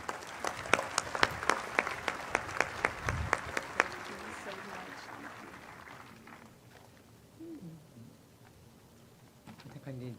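An audience at a ribbon cutting ceremony welcomes a speaker with lively applause that fades after a few seconds, leaving a quiet room with faint movement and a voice starting near the end.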